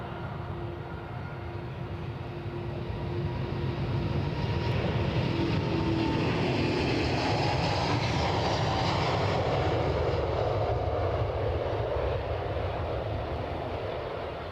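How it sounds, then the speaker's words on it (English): A Loganair ATR turboprop airliner departs Edinburgh, a broad roaring drone with a droning propeller tone that swells and then slowly fades across fifteen seconds, heard from a distance with no talk. "You can hear the ATR outward there, courtesy of Loganair."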